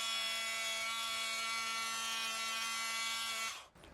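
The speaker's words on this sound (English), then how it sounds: "The polishing pad is this yellow, and now I'm just hitting it with the finishing pad." Rotary polisher fitted with a finishing pad buffing the paint of a BMW E90 328i, a steady high-pitched electric whine with a constant buzzing tone held close and loud, then cutting off abruptly near the end.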